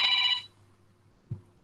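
A telephone bell rings loudly in a short burst that stops abruptly, leaving a quiet room with a faint hum and a brief low thump afterward.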